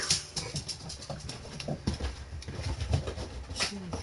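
A tiny chihuahua puppy whimpers close by in short, faint, high squeaks that come in irregular bursts, with a little background rustle.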